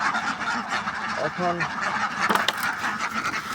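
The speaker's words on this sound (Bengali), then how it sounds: "হাঁসগুলা খাওয়ার জন্য পাগল হয়ে গেছে।" Khaki Campbell ducks kept in confinement, eager for feed, give a brief run of nasal quacks amid steady noisy background, with a short spoken word.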